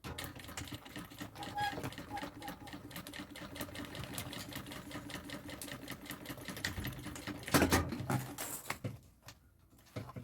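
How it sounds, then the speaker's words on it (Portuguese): Sewing machine running steadily as it stitches the bottom seam of an executive handbag with a half-foot presser setting, a continuous rapid mechanical chatter with a short louder burst near the end before it stops. "E fazer uma costurinha aqui pro lado do fundo."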